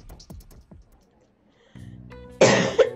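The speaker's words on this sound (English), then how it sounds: "more coughing, sorry about that" A gamer playing Persona 5 lets out a sudden, harsh cough near the end, a loud, close burst following quieter vocal sounds and a lull with faint background game audio.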